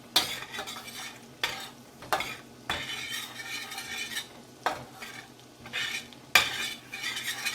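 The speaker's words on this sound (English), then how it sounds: "All right, let's give this a stir. Gonna let this cook for just about a minute in the butter" Food cooking in butter in a pan is stirred with a utensil, bringing repeated close scraping strokes and clinks every second or so over a steady soft sizzle, with no talking.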